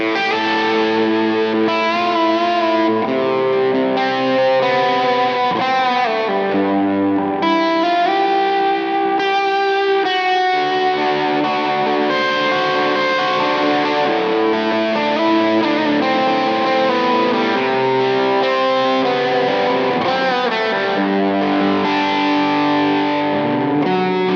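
Electric guitar, a PRS McCarty through a Tube Screamer overdrive, with a warm, mid-heavy tone, playing sustained chords and melodic lines continuously, loud and close with no talking.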